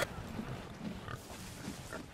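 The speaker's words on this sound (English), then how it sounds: "Did you try and harpoon the pig?" A pig in Sea of Thieves gives a few faint, short grunting oinks spaced across a couple of seconds over low background game noise.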